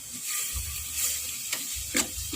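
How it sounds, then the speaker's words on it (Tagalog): Food stirred in a hot pan with shrimp paste, soft sizzling throughout, with a few light scrapes and taps of the utensil against the pan. "Tapos haluin na lang natin, no?"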